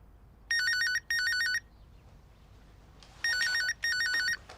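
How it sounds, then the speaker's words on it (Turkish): An electronic phone ringtone trills in two bursts, pauses, then rings twice more, clear and close over a quiet room. "Komutanım telefonu çalıyor."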